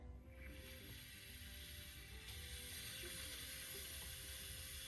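Steady hiss of air escaping from a radiator bleed valve, close up and continuous, growing slightly louder partway through, with faint water trickling underneath.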